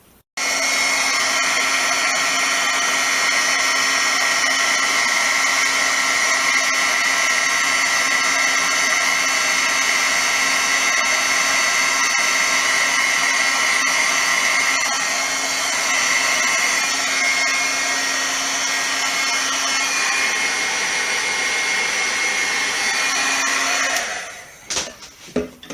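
A heat embossing tool blows hot air over a handmade birthday card. It gives a loud, steady, high-pitched whirring hum that runs unbroken for about 24 seconds and then cuts off with a few clicks.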